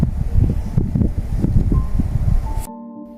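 Gusty wind buffets the microphone with a rough, low rumble for a few seconds, then cuts off abruptly.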